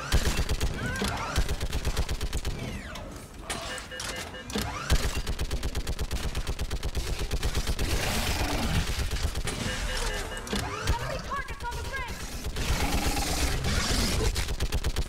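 Rapid automatic gunfire in the video game Mass Effect 3: dense, sustained bursts of shots over a busy battle soundscape, with a voice occasionally talking.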